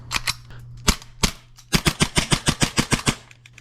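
An airsoft pistol fires BBs, first as a few separate sharp snapping shots and then as a fast, even string of about a dozen rapid cracks, close and loud, over a faint steady hum.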